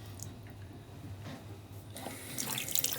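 Water running from a waterfall faucet after the valves are turned back on, starting as a faint trickle and then rising into a louder splashing rush into the sink near the end.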